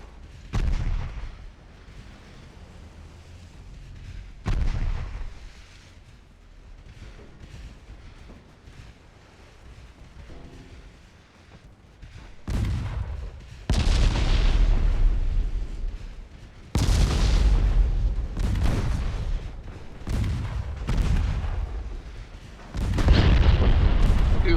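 Heavy warship guns fire in the naval battle game Ultimate Admiral Dreadnoughts, with deep booming salvos at about 4, 13, 17, 20 and 23 seconds. The loud rumbling blasts roll on between shots, and no one speaks.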